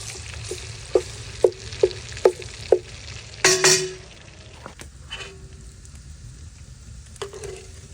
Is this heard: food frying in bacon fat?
yes